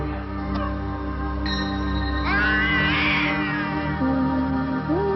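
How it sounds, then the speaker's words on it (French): A cartoon cat meows loudly in a few drawn-out, rising and wavering cries, close up with no speech over it, in an animated Garfield special. "Tiens bien ce chat, Larry."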